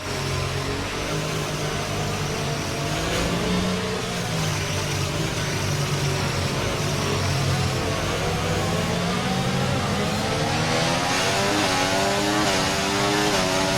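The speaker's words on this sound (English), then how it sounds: "just warming up the tyres, getting them up to temperature" Race car engine in the F1 24 video game on a tyre warm-up run, holding a steady mid-pitched drone with gentle rises and falls in revs, loud and continuous throughout, with no talk.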